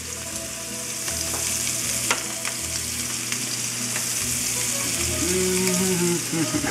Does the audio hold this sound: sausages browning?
yes